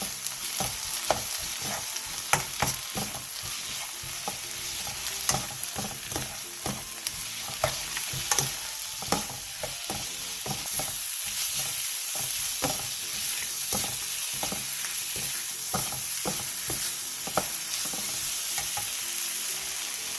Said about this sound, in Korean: 중약불에서 2분에서 3분간 볶아주세요